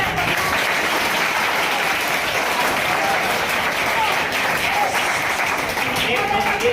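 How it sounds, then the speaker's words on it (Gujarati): Loud, dense clapping from a seminar audience at a career guidance event fills the space evenly, a continuous wash of applause with no pauses or speech. "એટલે જે બને તે વધારે તાળી પાડો"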